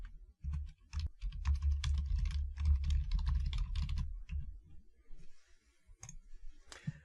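Rapid typing on a computer keyboard while entering a member's information into software, with dense clustered key clicks through most of the stretch before slowing to a few sparse taps near the end.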